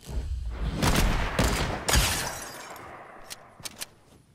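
Gunfire in the video game Fortnite: a cluster of loud, overlapping shots over the first two seconds, then a few sharper, isolated cracks fading toward the end.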